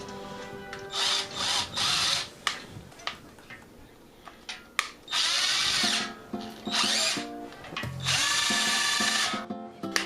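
A power drill runs in repeated bursts of varying length, close by, with clicks and brief pauses between spins, stirring wine during racking.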